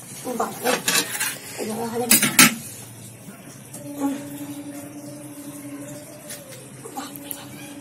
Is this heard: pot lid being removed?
yes